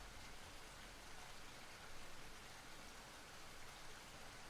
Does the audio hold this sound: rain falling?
yes